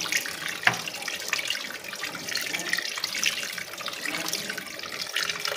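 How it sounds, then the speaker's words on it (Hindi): Water pours from a vessel into a pot of rice for vegetable pulao, a steady close splashing stream with a few louder gushes and no talk. "अब इसमें मैं डाल रही हूँ थोड़ा सा पानी।"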